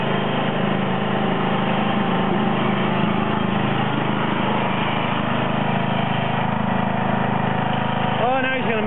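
A John Deere 111 lawn tractor engine running after a cold start, a loud, steady small-engine drone with a rough mechanical rattle that stays constant throughout.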